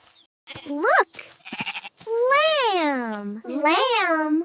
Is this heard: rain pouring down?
no